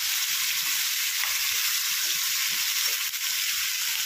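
Brinjal frying in oil while being mixed, a dense, loud, unbroken sizzle close up with faint low stirring knocks underneath and no talking.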